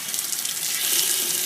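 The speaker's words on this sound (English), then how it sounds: "We're going to want to release the pressure from the water tank by opening up the PT valve." Water rushing out of the opened pressure-temperature relief valve on a KZ trailer's RV water heater, drained cold during winterizing. A steady, even hiss runs through the whole short moment and swells slightly louder partway through, with no voices.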